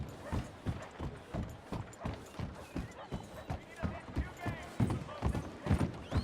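Horse hooves clop at a steady, even walking rhythm in Red Dead Redemption 2, each beat a dull thud repeating throughout, with quiet background talk running alongside.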